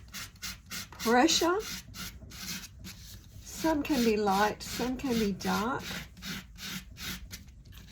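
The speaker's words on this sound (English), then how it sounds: "you'll keep sanding that as much as you want" Embossed cardstock is sanded to distress it in rapid back-and-forth scratchy strokes, close and rhythmic, with someone talking over much of the rubbing.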